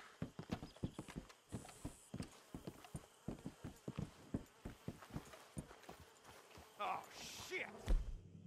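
Horses' hooves clip-clop in a steady, close rhythm in the video game Red Dead Redemption 2, with a brief louder scuffle near the end.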